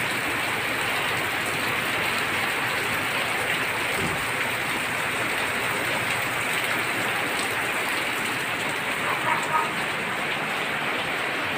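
Steady rain pours down outdoors, a dense, continuous hiss of falling drops that stays even and fairly loud throughout with no other sounds standing out.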